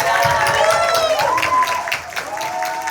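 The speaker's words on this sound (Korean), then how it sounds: "박수로 맞이해주시기" A studio audience claps to welcome a guest onto a talk show stage, a dense, sustained wash of applause that stays loud throughout, with faint tonal sounds and crowd murmur mixed in.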